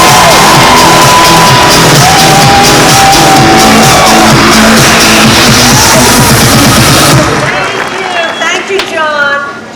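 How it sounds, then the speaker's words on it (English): A large audience on a Carnival cruise ship cheers, whoops and shouts loudly in a dense, sustained roar, with a tone-like sweep running through it. The crowd noise drops off near the end, leaving quieter, scattered sounds. "please put your hands together and give a big cheer as well for our President"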